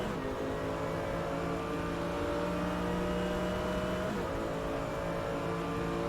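GT race cars in the RaceRoom racing game with ADAC GT Masters Mercedes and Audi machines, engines droning and revving continuously with shifting pitch as they run close together, steady and fairly loud throughout.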